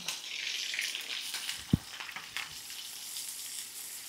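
Cumin, green chilli and long-sliced onion sizzle in a hot pan, a continuous bright frying hiss with a single sharp knock of a utensil partway through and a few softer stirring scrapes.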